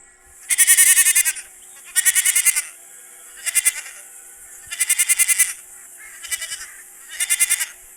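Cartoon goats bleat while grazing in a run of six loud, closely spaced quavering calls with short pauses between them, close by and alone, with no one talking over them.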